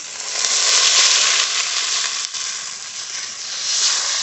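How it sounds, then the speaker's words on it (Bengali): Hot spices and potatoes sizzle loudly in a pan as water is poured in, a dense steady hiss with a brief dip midway, near and alone. "আলুর সঙ্গে মশলা ভালো করে কষিয়ে নিয়েছি এবার জল দিয়ে দেবো জল"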